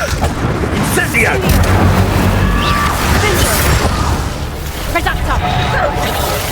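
A fire spell goes off in Hogwarts Legacy with loud, dense booming blasts and crashes that roll on for several seconds under a speaking voice.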